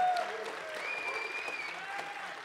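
A crowd at the EVE Online Fanfest 2009 PVP tournament applauds faintly in a large hall while tonal sounds and a voice carry over the light, distant clapping.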